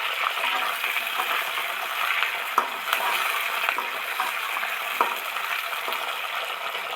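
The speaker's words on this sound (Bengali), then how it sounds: "এইবার ফুলকপিগুলো একটু ভেজে নেব।" Cauliflower florets fry lightly in a pan with a steady, soft sizzle and a few faint clinks, continuous and fairly quiet with no talking.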